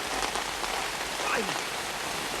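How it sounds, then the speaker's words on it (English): Rain falls steadily in a movie scene, a dense, even hiss of drops on surfaces throughout, with a faint voice briefly under it. "he notices it's only raining right where he was"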